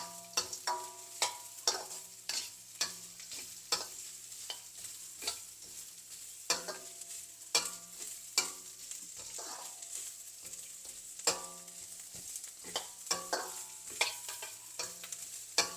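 Grated coconut roasting in ghee while being stirred, a soft continuous sizzle broken by repeated scraping strokes of a spoon against the pan, close and steady.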